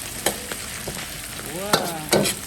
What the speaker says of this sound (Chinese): 爆炒羊腰